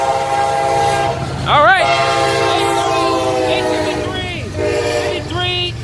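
A CSX freight train rumbles past close by, its horn sounding in sustained chord blasts with a brief bending swell partway through, over steady rolling rail noise; a person speaks briefly.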